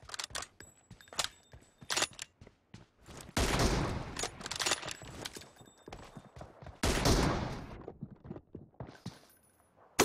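Gunfire in a team-based shooter video game match: bursts of rapid shots and louder sustained volleys crackle in clusters, with short gaps between them and footstep-like taps.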